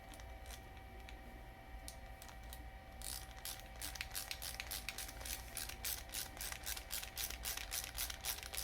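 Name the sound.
ratchet with 7mm socket turning bolts on power washer carburetor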